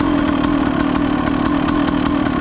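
A cold Honda CR250 two-stroke motorcycle engine runs nearby, making a loud, steady, buzzing drone with a rapid, even pulse and no pauses.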